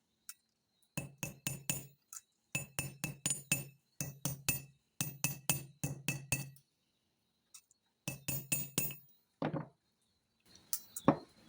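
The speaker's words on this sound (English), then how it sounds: "So all we're going to do now is give it a little bit of a hammering." Hammer blows on a cuff bracelet made from salvaged copper tubing, bright metallic clinks struck in fast groups of three to five with short pauses between, close and sharp with no talk.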